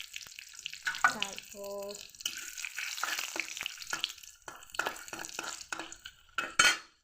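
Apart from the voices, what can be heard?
bay leaf and dried chilli frying in hot oil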